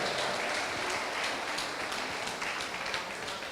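Audience applause at a live show, a steady dense wash of clapping that fills the whole stretch without letup, fairly close and even in loudness.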